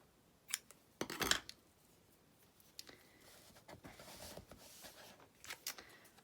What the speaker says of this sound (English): this is the soft succulent, which I'm going to snip with my ribbon scissors.